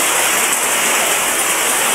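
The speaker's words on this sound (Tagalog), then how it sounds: "malakas ang ulan at hangin" Heavy rain with strong wind during a typhoon, a dense, loud, continuous hiss and roar of downpour with no voices.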